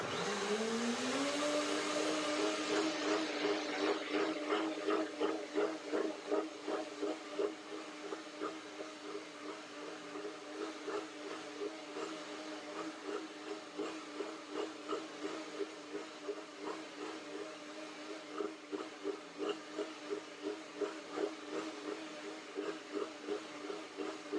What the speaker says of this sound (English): One more blender dance.